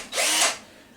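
Lidl PBSA 20 Li A1 brushed cordless drill with a keyless chuck whirring up briefly and spinning down, a single short close run with no talk.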